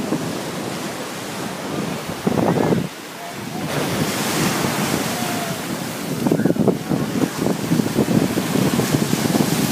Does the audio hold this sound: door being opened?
no